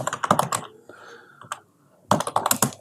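Keystrokes on a computer keyboard as a single character is entered during a C programming lesson; close, crisp clicks come in two bursts with a quieter gap between them.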